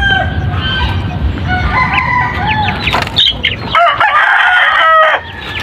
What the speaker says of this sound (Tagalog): Mga Chinese chicken yan, saka